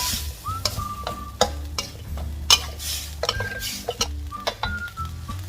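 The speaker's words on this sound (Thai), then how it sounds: "แกงสุกแล้วค่ะเราก็ใส่กระดูกหมูลงผัดนะคะ" Pork bones are stir-fried in curry paste for a Thai jungle curry, with close scraping and clinking of a utensil against the pan over a soft sizzle and no talk.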